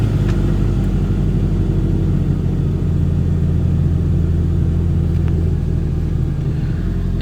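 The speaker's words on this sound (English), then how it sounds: "I'm just going to crank my van over with that relay out" A Toyota Tarago (TCR10 Previa) van engine with its starter motor relay removed produces a continuous low mechanical rumble, loud and close, that holds steady without pauses or talking.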